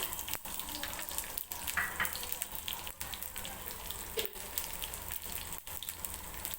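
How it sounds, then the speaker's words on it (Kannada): Small pops and crackles of mustard and cumin seeds spluttering in hot oil over a continuous soft sizzle, with a few sharper spits scattered throughout. "ಸಾಸಿವೆ ಸಿಡಿತಿದೆ"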